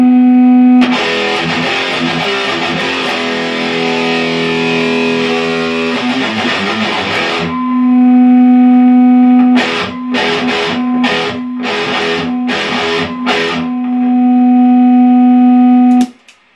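Distorted electric guitar played through an amplifier with no MXR Smartgate noise gate, a loud sustained wash of chords for about seven seconds, then a string of short choppy stabs, with a steady hum droning underneath throughout.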